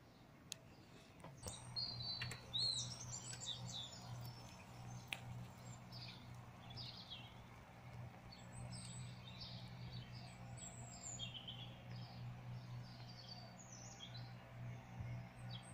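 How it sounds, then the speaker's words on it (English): Sparrow chirping in Victoria Park, Waterloo, giving faint, distant, high chirps and short twittering calls scattered over a steady low outdoor hum. "Sparrow."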